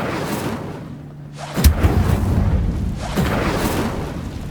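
An Incendio fire spell cast in the game Hogwarts Legacy bursts as a deep, booming whoosh over a dense, rumbling game soundscape, with a second swell of roaring flame following a moment later.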